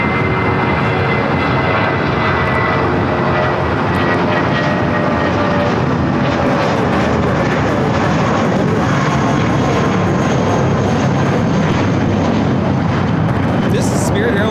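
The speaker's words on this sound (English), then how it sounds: "This is Spirit Airlines 416 taking off to Indianapolis on the A320" Spirit Airlines A320 on its takeoff roll at LAX, a loud, steady, broadband jet engine roar that fills the whole stretch without letting up, very close, with faint chatter mixed in beneath it.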